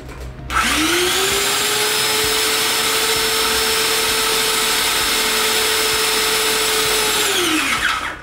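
An airless paint sprayer switched on and pressurizing, a loud steady motor whine that starts abruptly, holds a constant droning pitch for several seconds, then winds down at the end.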